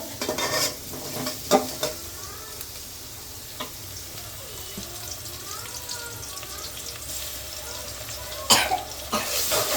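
Dried red chilies and dried onion frying in a pan on a stove, a low continuous sizzle broken by spoon-stirring scrapes and clatter, with a cough and throat clearing heard near the start.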